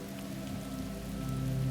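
Steady rain pours down in a thunderstorm, a dense, even hiss of drops hitting surfaces that holds at a constant level throughout, with no voices.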